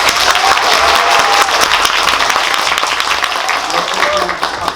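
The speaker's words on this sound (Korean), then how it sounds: "박수 한번 치고 다시 시작해보겠습니다." Audience applause at a film screening and Q&A for the Korean movie Kill Boksoon at CGV Myeongdong, loud continuous clapping from a packed cinema that holds for several seconds and eases near the end.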